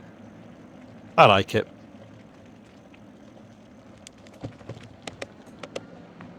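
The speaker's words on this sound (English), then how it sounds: "show you my bike going over a cattle grid" A motorbike, an Engine X, rolls over a cattle grid on the way to a marina in Conwy in December, giving a loud double rattling clatter near the start. Sparse faint clicks follow, and a voice speaks briefly.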